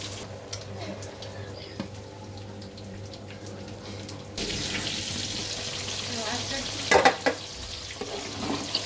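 Spinach goes into a pan of spiced shrimp masala, starting as quiet clatter and then turning to louder, steady sizzling frying with light stirring and a few sharp clinks.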